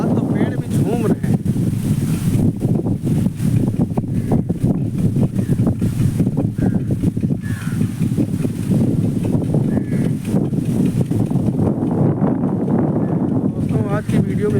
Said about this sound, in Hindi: हवा देखो क्या चल रही, मस्त हवा चल रही है।